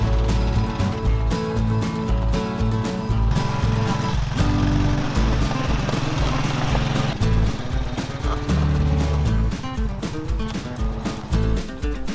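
A car is winched up into a garage, giving loud, rapid ratcheting clicks and a grinding mechanical rumble that continue throughout with slight changes in pace.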